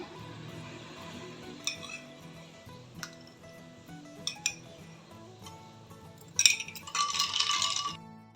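A few ice cubes dropped one by one into a glass for watermelon sharbat give sparse, faint clinks, then a brighter rattling burst near the end over soft background music.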